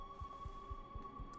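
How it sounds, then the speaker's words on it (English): Laser saw in the video game Detroit: Become Human gives a steady electronic hum with a soft, regular low throbbing pulse, quiet and continuous with no talking. "Laser saw."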